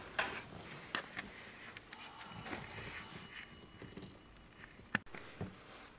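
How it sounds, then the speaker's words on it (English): A faint phone rings in steady tones amid quiet background noise, with a sharp knock near the end. "Sorry, my phone was ringing."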